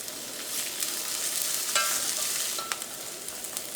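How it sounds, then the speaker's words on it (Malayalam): Onion, garlic, ginger, curry leaves and green chili frying in hot oil, a bright steady sizzle with a few clinks of stirring, close and alone without talk. "അപ്പോൾ സവോളയൊക്കെ ഒന്ന് വഴന്നിട്ടുണ്ട്."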